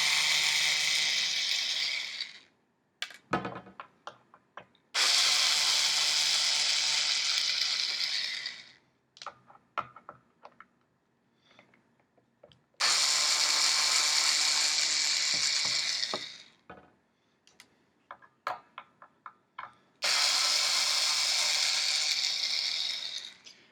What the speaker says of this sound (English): Make sure you use the drill in the right direction.